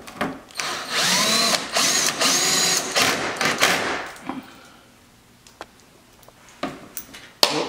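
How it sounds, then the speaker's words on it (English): A power drill drives screws into a C5 Corvette aero kit, sounding as several close, loud whirring bursts of a few seconds each, with clicks and handling noises in the quieter gaps. "I'm gonna put these other four screws in right here"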